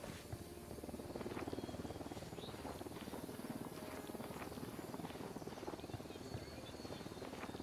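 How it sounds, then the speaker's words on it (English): A Santa Blanca helicopter setting down in the jungle in a video game, its continuous rotor thump fairly distant beneath ambient jungle noise, with no speech. "a Santa Blanca helicopter just landed in the middle of the jungle"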